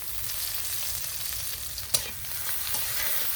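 Spice paste with green chili, chili powder, turmeric and salt fries in a pan. A steady close sizzle hisses throughout, broken once by a single sharp tap.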